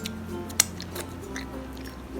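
Homemade kale chips crunched between the teeth in a few brief, crisp bites near the mouth, with one sharp snap standing out early over a faint low hum.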